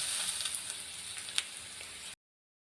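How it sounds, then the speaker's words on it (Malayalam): Mustard seeds sizzle and crackle in hot coconut oil, a steady bright hiss with a few small pops, fairly quiet and close, no voices. "കടുകൊക്കെ പൊട്ടി വരട്ടെ"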